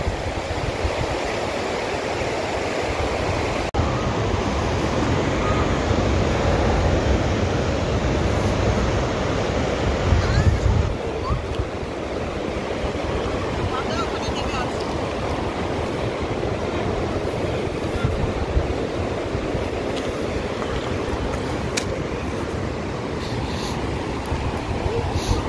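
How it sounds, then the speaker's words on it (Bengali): The fast-flowing Sindh river in Ladakh rushes past in a loud, unbroken broadband roar of churning water, steady throughout with slight swells, close to the listener. "দেখুন কি সুন্দর স্রোত দিয়ে বয়ে চলেছে"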